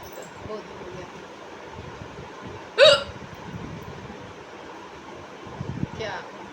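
A sudden loud hiccup bursts out from a person with non-stop hiccups, and a second, fainter hiccup follows a few seconds later over a quiet, murmuring room.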